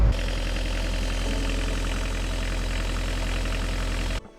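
A boat's engine idles steadily, its alternator putting out about 130 amps, with a constant low rumble and even mechanical chatter that run unbroken for about four seconds before cutting off abruptly.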